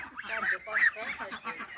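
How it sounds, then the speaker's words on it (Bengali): Young geese, about a month and a half old, give several nasal honks in quick succession, fairly close and clear against a quiet background. "আর এখানে এগুলো 4টা হচ্ছে রাজহাঁস"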